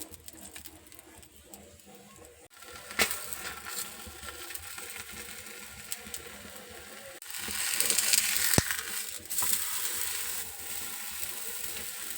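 Holige flatbread (toor dal filling) frying in hot oil on a pan, with a soft continuous sizzle and crackle that swells louder partway through, steady close-up kitchen sound with no talking.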